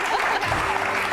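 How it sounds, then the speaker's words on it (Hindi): Studio audience on a TV talk show bursting into loud, dense clapping for a brief moment, close and continuous with a voice faintly underneath. "तालियां इस पे तालियां।"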